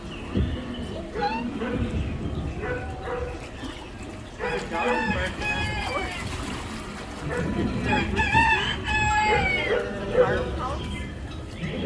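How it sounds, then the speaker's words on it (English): A rooster crows and chickens cluck at a farm-themed ride at Epcot, with several animal calls over a busy background as a narrator and nearby visitors talk. "And a chicken."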